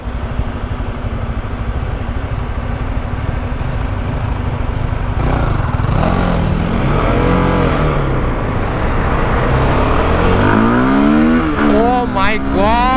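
Yamaha R15 V3 or CFMoto 300SR motorcycle with quick throttle revving repeatedly, its engine note rising and falling in loud sweeps, close by, with people talking over it.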